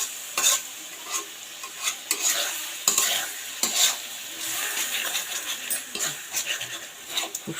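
Garlic paste and cumin paste sauté in a pan, with a soft sizzle broken by irregular scraping stir strokes, some sharper and louder, close by with no talking.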